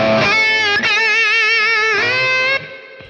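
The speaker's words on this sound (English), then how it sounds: "Really nice reverb." Electric guitar played through a Hotone Ampero II multi-effects unit with the 140 plate reverb engaged, sustained bright chords ringing loudly with a wavering shimmer, then cutting off into a fading reverb tail.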